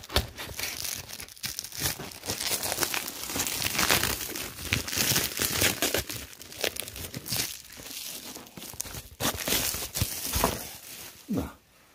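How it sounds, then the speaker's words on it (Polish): Plastic foil wrap torn and crumpled off a pack of 48 g Felix soup sachets, giving continuous close crinkling and tearing with sharp rustles, stopping near the end as a voice begins. "cholerną tą folię ściągnąłem"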